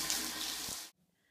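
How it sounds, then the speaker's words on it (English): A hose sprays water over a horse named Fadunsh at a Lusitano riding centre. The quiet, steady hiss runs for under a second, then cuts off abruptly into near silence. "Veronica is showering Fadunsh."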